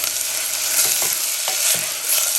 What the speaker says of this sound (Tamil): இதில் வெங்காயம் நல்லா வதங்கி வரட்டும்